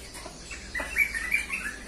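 A Javan pied starling sings a few bright, warbling chirps at moderate distance over a faint background hiss.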